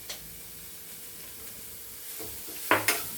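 Onions sautéing in a pan make a faint, steady sizzle, with two quick knocks of a utensil near the end and no talking.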